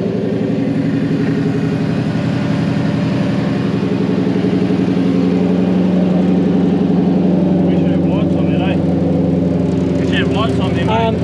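An offroad 4x4 buggy with a 1UZ VVT-i V8 engine idles loudly and steadily up close, a rough continuous rumble filling the whole stretch.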